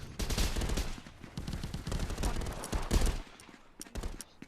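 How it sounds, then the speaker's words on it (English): Dense, loud gunfire bursts and blasts from a grenade in the VR shooter ContractorsVR, set in a scrapyard firefight, with rapid automatic volleys rattling close, then thinning out near the end. "this said a grenade came out the sky."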